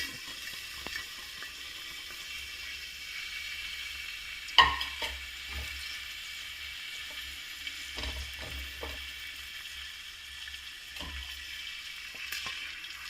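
Beef chilli ingredients fry in a hot pan with a soft continuous sizzle, punctuated by a sharp clank and several light scraping stirs, with no talk.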